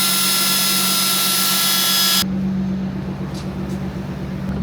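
A loud, close drill whines steadily for about two seconds boring a small pilot hole in a car bumper, then cuts off, leaving a low engine-like rumble.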